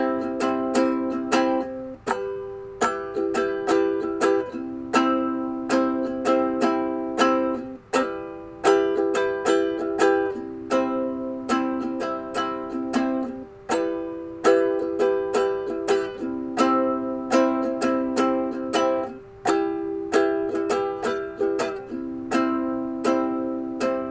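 A ukulele strums the chorus of a song in a steady rhythmic pattern of bright, ringing chords, played alone and close without any voice.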